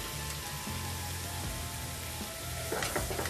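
Mushrooms sizzle softly in a pan after mushroom broth is added, a low steady frying hiss with faint bubbling and a few light stirring clinks near the end.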